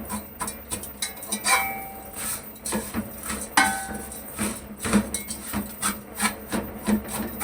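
Vermicelli being fried and broken up in a pan, giving rough rubbing and scraping strokes in an irregular rhythm, close and fairly loud, with occasional light metallic clinks and no talk.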